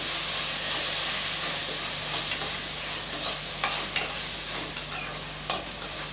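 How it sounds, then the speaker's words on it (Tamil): Chopped tomatoes sauté in a hot pan for chana masala, a steady close sizzle with occasional scraping stirs of a spoon. "இதையும் சேர்த்து நல்லா வதக்கி விட்டுக்கலாம்"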